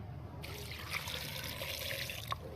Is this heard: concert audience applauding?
no